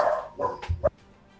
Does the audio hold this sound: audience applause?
no